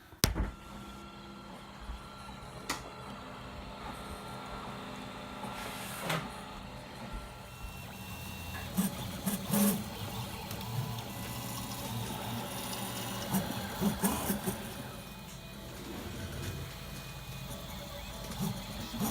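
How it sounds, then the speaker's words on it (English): A 3D printer printing half of a robot vacuum battery pack whirs and ticks steadily nearby, its stepper motors buzzing and clicking in irregular patterns with occasional sharper taps. "here you can see the part getting printed, one half of the battery pack"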